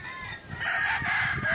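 Hens in a 4x4 square farm pen, shielded from strong wind, crow and cluck close by, steady and fairly loud, with a rooster-like crow swelling through the second half.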